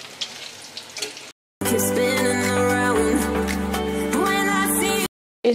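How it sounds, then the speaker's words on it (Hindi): Bottle gourd kofta pakoras fry in a pan of oil over medium heat, giving a steady dense sizzle that cuts off briefly, with a voice speaking at the start. "इसको हम मीडियम आंच पे ही इसको अच्छे से हम पका लेंगे"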